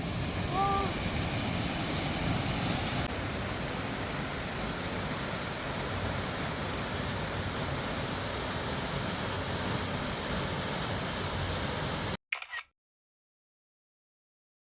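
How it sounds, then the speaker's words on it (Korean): Water pours down the Eun waterfall at Naeyeonsan in Pohang, a constant broad roar heard close and fairly loud for about twelve seconds before it cuts off abruptly. "은폭포에서 쏟아지는 물이 정말 시원해요."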